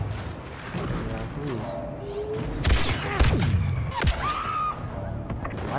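Blaster fire in the Star Wars Battlefront 2 video game crackles in a busy battle mix with scattered shots and thumps, while players talk over the action.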